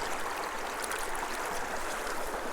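Small mountain creek in mid-winter running beside a road, a steady close rush and trickle of water flowing without pause, loud and even throughout.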